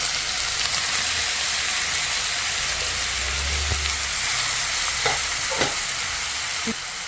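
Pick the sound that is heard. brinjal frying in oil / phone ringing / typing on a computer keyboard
brinjal frying in oil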